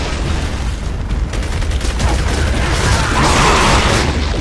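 A frag grenade blast in the shooter game Gears of War: Judgment: a dense, loud rumble of explosive noise with crackling debris that swells and holds for several seconds, with no talk over it.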